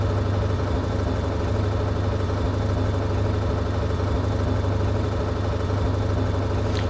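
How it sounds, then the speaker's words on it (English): A race car sits idling in a racing video game, the GT Icons add-on, giving off a steady, even low engine drone with a constant hum and no revving throughout. "Doesn't have much of a sound. Just sitting there idle."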